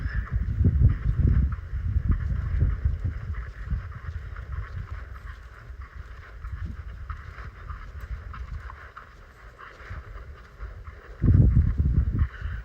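A horse walks during lead-change training, its hooves clip-clopping in soft, irregular thuds with some wind noise over the microphone, and a heavier cluster of hoofbeats near the end.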